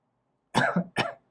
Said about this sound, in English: slight cough, as you can hear, but nothing serious, I hope.